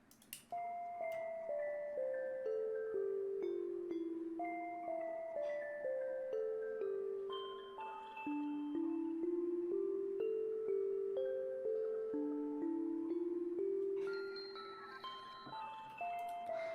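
A sad, emotional synth melody from Omnisphere steps down and back up in a staircase pattern, each note ringing with a sustained tone and no effects, played alone at a steady tempo for the whole stretch.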